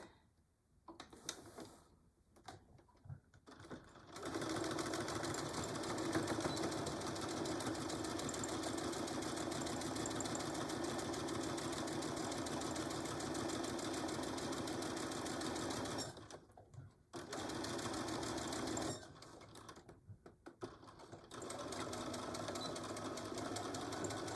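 A sewing machine stitches a Christmas pincushion, running in long steady mechanical bursts with a short pause between runs, close and fairly quiet with no talking.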